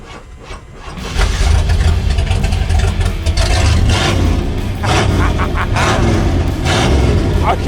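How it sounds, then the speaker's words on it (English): Rusty Cadillac engine running with its front exhaust disconnected from the muffler and resonator, starting up into a loud, booming rumble that holds steady close by, with people talking over it. "the front part of the exhaust is no longer connected to the back box, the muffler, the resonator. So now it should be loud."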